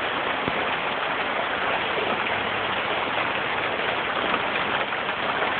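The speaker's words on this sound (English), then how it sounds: "It is snowing in Burbank!" Soft hail falls steadily in Burbank, California, a dense, even patter like heavy rain on surfaces, continuous and fairly loud with no voices.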